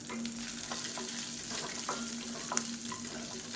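Onion and garlic sautéing in a pan, a steady soft sizzle with a few light scrapes and clinks of stirring, close by and without talk.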